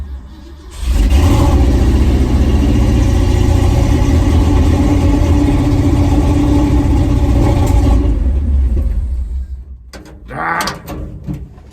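A carbureted car engine with a troublesome choke and a fuel leak underneath runs loud and steady up close, holding a sustained rev for several seconds before dropping back and giving a brief blip near the end.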